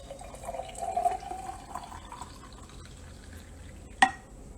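Green juice pours and trickles softly into a container for a couple of seconds, then quiets, ending with a single sharp clink.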